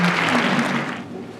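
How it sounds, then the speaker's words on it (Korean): An audience claps at the launch ceremony of the Chungcheong regional union, a dense burst of applause that gradually tapers off, with a faint voice in the background. "박수 보내주십시오,"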